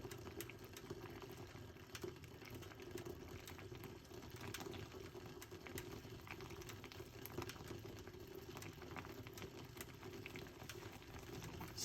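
A pot of liquid simmers steadily, a low continuous bubbling hiss with faint pops and ticks running throughout, close and even, with no talking.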